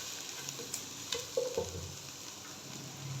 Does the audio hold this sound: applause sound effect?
no